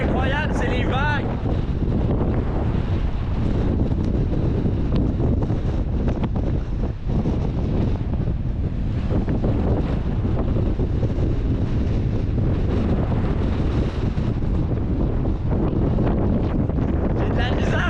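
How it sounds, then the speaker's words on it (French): Strong wind buffets the microphone on an exposed coast of the Bonavista Peninsula, a loud continuous roar with rushing gusts and surf beneath, and a voice speaks briefly near the start. "C'est incroyable la quantité de vent!"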